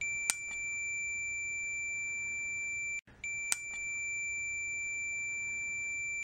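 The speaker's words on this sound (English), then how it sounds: "When we touch the probes together, we get a beep." A multimeter's steady high-pitched continuity beep sounds as its probes touch, breaking off briefly halfway, with a couple of faint clicks, quiet and close.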